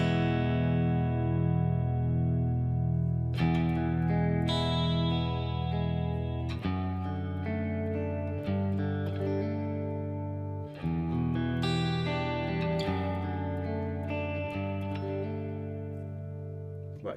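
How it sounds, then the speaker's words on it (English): Electric guitar played through a Boss Katana amp with a modulated reverb effect: sustained chords ringing out with shimmering, wavering tails, each new strum cutting in over the decaying wash. "the modulated reverb"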